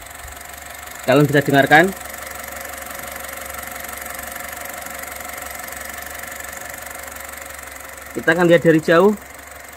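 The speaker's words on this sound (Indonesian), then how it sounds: "ini mesinnya sudah saya nyalakan dan suara mesinnya seperti ini" Idling 1200 cc four-cylinder i-VTEC engine of a 2020 Honda Brio E, a steady low hum running throughout, heard from a short distance with speech at the start and end.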